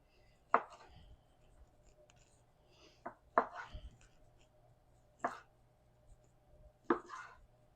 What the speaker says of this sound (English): Your knife just glides right through it.